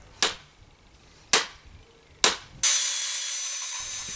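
An axe head being rehung on a reshaped wooden handle: three sharp, hollow knocks spaced about a second apart, each ringing briefly, then a harsh, sustained hiss of machinery noise takes over.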